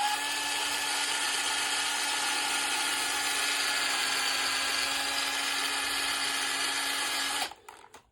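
Handheld drill spinning a household Scotch-Brite pad against 2JZ-GE engine valves, a steady high-pitched whine close up, running continuously before winding down at the end.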